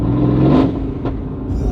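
A Mercedes-AMG GT with a full titanium valved exhaust and free-flow downpipes, valves open, gives a short, deep rumbling rev that rises and fades, heard up close for under two seconds.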